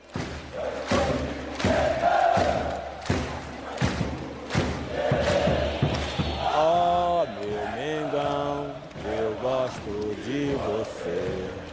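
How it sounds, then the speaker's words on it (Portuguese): A Flamengo football crowd at a stadium match against São Paulo chants and sings en masse, with rhythmic booming thumps at first, then drawn-out sung notes rising and falling from the stands. "A torcida então cantou como nunca."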